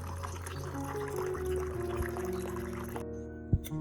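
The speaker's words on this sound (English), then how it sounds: "poured in about 500 milliliters of boiling water." About 500 milliliters of boiling water pours steadily into a container of rice and garlic, a continuous splashing flow that stops abruptly, followed by a brief knock.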